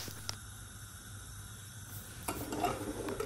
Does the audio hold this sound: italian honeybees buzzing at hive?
no